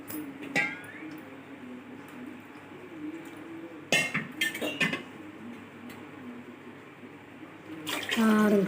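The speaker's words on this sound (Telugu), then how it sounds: "6 గ్లాసులు వాటర్ పోసుకున్నాను." Water poured into a cooking pot for coconut rice, a steady close splash with a few sharper clatters partway through and a louder gush near the end.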